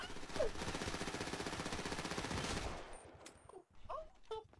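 Rapid sustained automatic gunfire in the video game GTA, a dense loud burst lasting a few seconds before cutting off, followed by brief game sounds and short speech.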